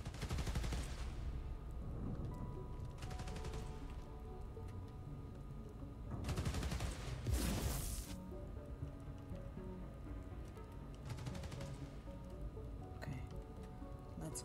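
Gunfire in Spider-Man: Miles Morales, with several scattered bursts of shots over a low, quiet game ambience. Two louder clusters stand out near the middle, with no one talking.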